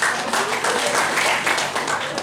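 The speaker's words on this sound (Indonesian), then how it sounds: "Tepuk tangan dulu" Audience applause at a gathering for school supervisors in Bali, a loud, continuous wash of many people clapping together, close and sustained throughout.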